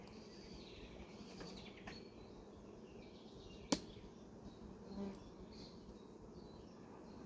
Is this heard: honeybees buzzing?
yes